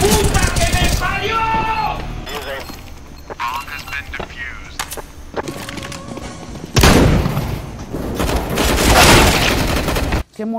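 Bursts of gunfire and booms from Counter-Strike: Global Offensive come in loud volleys, with talking in between and a heavy stretch of shooting near the end.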